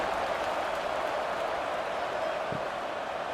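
Steady crowd buzz filling a football stadium after a touchdown at an HBCU game, a dense, even roar of many voices with no breaks and faint scattered clapping.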